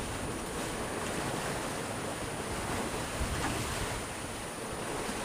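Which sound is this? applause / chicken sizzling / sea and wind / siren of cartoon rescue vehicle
sea and wind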